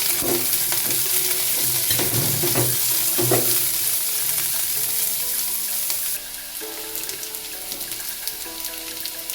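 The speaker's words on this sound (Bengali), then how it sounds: "পেঁয়াজটাও সবজির সাথে ভেজে নিচ্ছি" Diced onion frying with vegetables for leftover fried rice, a steady close hiss and sizzle throughout with intermittent stirring scrapes in the pan.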